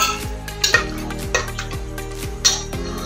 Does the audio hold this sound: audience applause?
no